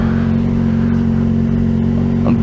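A motorcycle fitted with an IXIL dual hyper silencer exhaust, originally made for the Yamaha XJ6, holds a loud, steady engine drone with a brief rev rise at the end.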